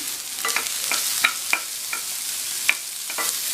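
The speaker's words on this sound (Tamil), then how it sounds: "நல்லா எண்ணெயில் கொஞ்சம் வதக்கிக்கங்க." Sliced radish sautéing in hot oil in a pan, a soft continuous sizzle broken by scattered scraping and stirring clicks, close and fairly quiet with no talking.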